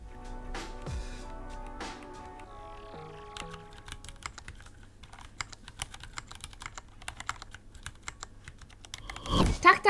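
Keys on a mechanical keyboard with Cherry MX Red switches clatter in quick, light, uneven bursts of clicks, close and fairly quiet, ending in a louder thump.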